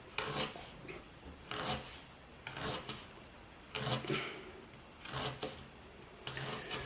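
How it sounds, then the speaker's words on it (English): A knife slices fresh ginger into small pieces in five or six separate rasping strokes, each followed by a short pause, close and quiet. "slice it in small pieces, they said. So we will do it. Slice it small."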